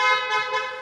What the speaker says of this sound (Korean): 아 그리고 일단 크락션